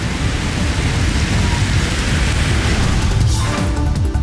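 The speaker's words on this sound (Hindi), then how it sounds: "दिल्ली के साथ पूरे एनसीआर में जोरदार बारिश," Heavy rain pours down across Delhi and the NCR, with water pooling on the streets. It sounds like a loud, dense, continuous roar of downpour with no voices.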